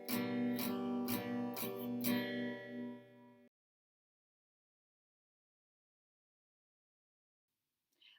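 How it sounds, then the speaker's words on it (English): Acoustic guitar chord played on every string except the sixth, strummed four times in steady rhythm and ringing clearly up close, then cut off, followed by silence. "You're going to strum every string except for that 6th string, just like the major and the minor. It should sound something like this."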